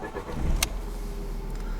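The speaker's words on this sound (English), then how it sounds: "I'm going to show you that this car starts the first time with absolutely no problems" A 2006 Audi A4 2.0T FSI Cabriolet engine cranks briefly and fires on the first try, then settles into a steady low idle rumble, close and alone.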